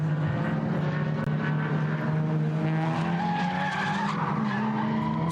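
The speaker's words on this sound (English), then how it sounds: "Squeal of tyres. I was just hearing that, yes." Race car tyres squeal in a long, sustained, wavering screech at the Nürburgring during an ADAC endurance race, loud and continuous over engine noise, with no talk.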